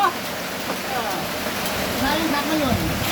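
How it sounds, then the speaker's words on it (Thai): Rain pours outdoors in Samut Sakhon on Songkran day, a broad steady hiss of falling water, fairly loud, while someone talks over it. "ฝนตกครับพี่น้อง"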